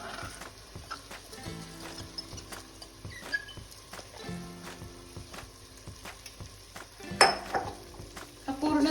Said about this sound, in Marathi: हा पूर्ण तांदूळ यामध्ये आपण अगदी एकजीव करून घ्यायचा आहे